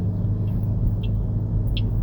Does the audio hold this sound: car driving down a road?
yes